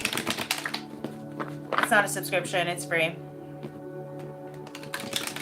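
Tarot cards being shuffled give crisp, papery riffling clicks at the start and again near the end, with a person talking clearly in between.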